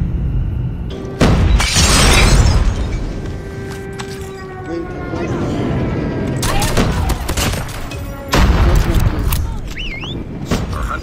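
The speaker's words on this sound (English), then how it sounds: "Friendly airstrike incoming." Friendly airstrike explosions in a multiplayer shooter game hit in heavy, loud booms and shattering blasts, a few big impacts with rumbling debris and gunfire in between, under announcer-style game voice lines.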